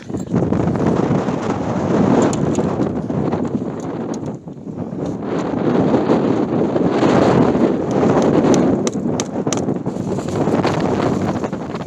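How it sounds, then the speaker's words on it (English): Strong, gusty wind buffets the microphone in continuous roaring surges, rising and falling with no voices. "it is a super windy day out today"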